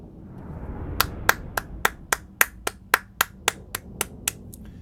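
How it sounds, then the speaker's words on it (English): One person claps hands alone, about a dozen sharp, evenly spaced claps up close at a steady moderate pace, with no talking. "My applause is not sarcastic."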